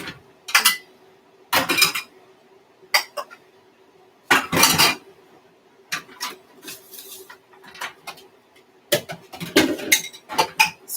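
Pots, pans and metal utensils clatter and clink in bursts as a cooking area is cleared while food simmers, sharp close knocks separated by quiet pauses.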